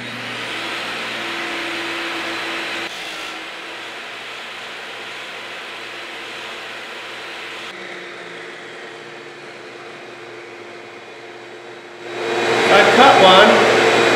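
A table saw dado set adjusted for 11/32 plywood hums steadily for several seconds, then bites loudly into plywood near the end as it cuts a kerf.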